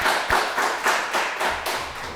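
A church congregation at a Sunday evening service and New Year special prayer meeting claps together, a dense, even burst of applause in a reverberant room, sustained throughout at moderate loudness.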